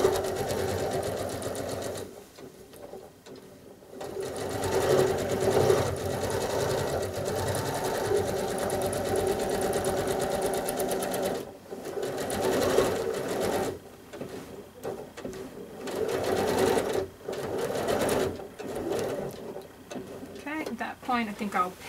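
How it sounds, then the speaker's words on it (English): Domestic sewing machine running a long basting stitch along the edge of a quilt, a steady fast whir with brief pauses, close and loud, with faint talk over parts of it. "it's going to fly through because it's that big basting stitch"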